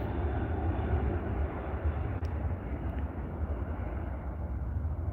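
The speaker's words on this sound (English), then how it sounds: "There's his V1 rotation. Starts his climb, and away we go, my friends." A passenger jet rotates off the runway at an airport and climbs away, a loud, steady broadband engine roar heard from a distance, sustained without any talk.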